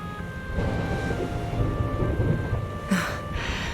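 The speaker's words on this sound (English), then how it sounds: "Would you look at it thundering away out there?" Thunderstorm in Dragon Quest XI: steady rain hiss with low rolling thunder throughout and a brighter crack of thunder near the end.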